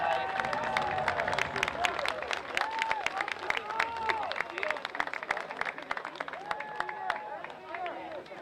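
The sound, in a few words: crowd applause for seniors at football game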